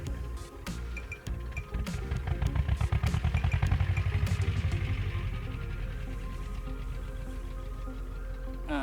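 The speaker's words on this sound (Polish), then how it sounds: "chyba ten traktor słyszycie" A tractor working a field chugs steadily nearby with a mid-pitched engine and rattling, clanking mechanical sounds, the rumble swelling for a few seconds and then settling into a continuous drone.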